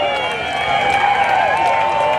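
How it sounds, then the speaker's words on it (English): A crowd at a Grand Bend Motorplex drag racing night cheers and claps in a steady, loud wash of noise, with shouts and whistles rising over the continuous roar. "Yeah, everybody, the crowd is on. Let's go. Get loud, folks."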